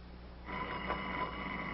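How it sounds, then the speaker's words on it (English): An old telephone bell rings in a 1942 film scene, a steady metallic ring beginning partway through and holding at moderate volume to the end, with no talking. "Isn't that your ring?"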